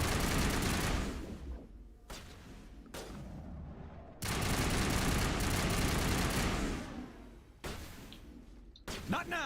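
Gunfire from Mass Effect, with dense bursts of shots and a rattling fusillade in two long stretches broken by brief lulls, loud and close, mixed with game sounds.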